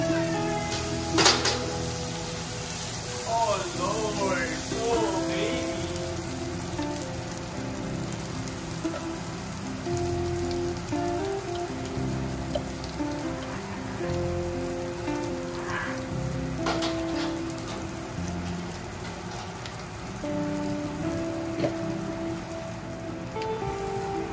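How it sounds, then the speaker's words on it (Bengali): Dried loitta fish frying in a pan with crushed dried chilli, a continuous dense crackle and sizzle like rain, with some clinks of utensils and no talk. "আর এখন শুটকিটা দিয়ে দিব ভাজা ভাজা করার জন্য।"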